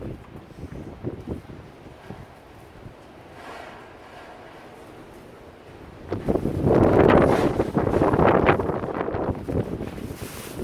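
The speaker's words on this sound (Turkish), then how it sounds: "acayip de bir rüzgar var" Gusty wind buffets the microphone in a terrace garden, rumbling low at first and then surging into a louder, rougher blast for the last few seconds.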